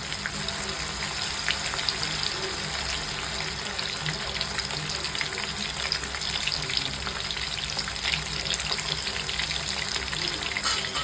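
Paneer frying in a pan of hot oil, a steady dense sizzle with crackling that holds at even loudness throughout, close up, with no talking.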